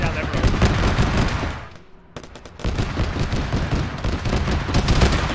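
Heavy gunfire echoes down a road during an Arma military game, with dense overlapping bursts of automatic fire that drop off briefly near the middle and then resume loud and rapid, unbroken to the end.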